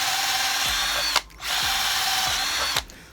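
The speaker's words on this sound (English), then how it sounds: "the hammer drill sounds about right" An 18V Hitachi cordless hammer drill runs in steady high-pitched bursts, briefly cutting out twice between runs, loud and close with no talking.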